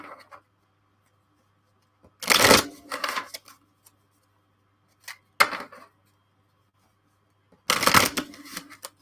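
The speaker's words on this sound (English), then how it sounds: "I'm just going to shuffle this card back in." A deck of tarot cards being shuffled in three separate bursts of quick riffling and flicking, close and crisp, with quiet pauses in between.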